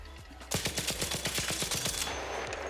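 Automatic gunfire from a weapon in the ARC Raiders video game: a rapid burst of about fifteen evenly spaced, loud shots after a brief lead-in, followed by a short lingering tail.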